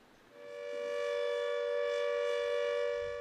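A coastal flood warning siren in Norfolk rises from quiet into a steady, clear mechanical wail with a strong pure tone and harmonics, held loud and unbroken for several seconds.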